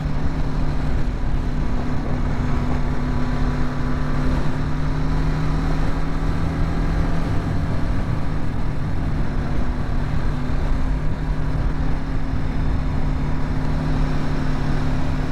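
BMW GS motorcycle riding along a little country lane in the sun, a steady engine drone with a low hum and constant wind rush, close and loud throughout, with no talking.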